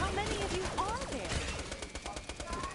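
Rapid gunfire from the shooter game Borderlands: The Pre-Sequel on PS4, bursts of automatic shots packed together with game effects and some voice-like sound mixed in, loud and continuous throughout.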